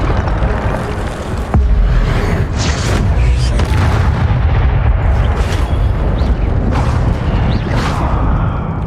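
Spell-casting effects from the video game Hogwarts Legacy: a fire spell lands with a heavy booming burst, followed by a sustained loud rumbling wash of magical sound with several sharp swells, close and dense throughout.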